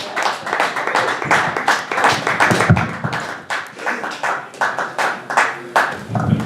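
Comedy-show audience applauding comedian Richard Montano, a dense rippling round of hand clapping that swells and pulses steadily, close and loud, with no talk over it.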